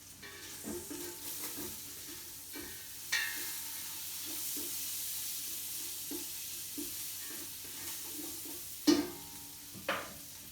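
Bacon frying in a pan, a steady close crackling sizzle for about ten seconds, punctuated by occasional sharp clanks and scrapes of a utensil against the pan.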